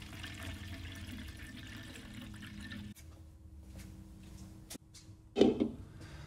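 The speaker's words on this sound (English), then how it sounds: "Open the faucet and let the sanitizer push out all of the water." Sanitizer solution runs from the faucet of a beer jockey box, a continuous watery flow with a hiss and trickle. It cuts off and then gives a short gurgling splash near the end.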